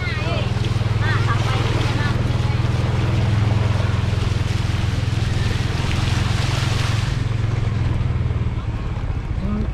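A klotok river boat on a flooded stretch of the Martapura River churns past with a loud, steady low engine drone and splashing waves, continuous and close, fading slightly near the end.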